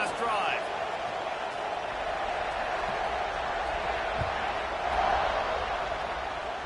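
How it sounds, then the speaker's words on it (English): Steady roar of a stadium crowd at an Auburn versus Texas A&M college football game, a dense wash of cheering that holds throughout and swells slightly near the end, with an announcer talking over it. "this crowd is feeling themselves after that last drive"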